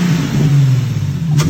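Close, loud rev from an Infiniti G37 coupe engine fitted with a replica Z1 cold air intake, a steady mid-pitched roar holding for about a second and a half.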